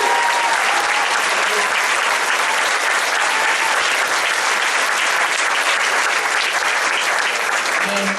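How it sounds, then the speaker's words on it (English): Loud, sustained applause from a large audience for school staff before a combined orchestra concert, with dense, even clapping that continues unbroken throughout. "Big round of applause for all Castillero staff."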